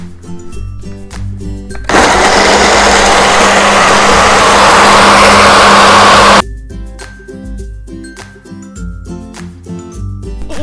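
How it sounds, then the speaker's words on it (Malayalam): A mixer grinder blends a Snickers chocolate milkshake in one loud, steady whirring burst lasting several seconds, with background music before and after it. "ഇനി നമുക്ക് ഇത് മിക്സിയിൽ വെക്കണം"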